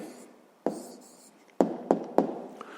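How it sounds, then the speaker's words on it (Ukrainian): A pen writes an answer down for a sixth-grade maths exercise: a brief scratchy stroke, then three sharp taps and short scribbles close up, with no talk. "Записуємо відповідь."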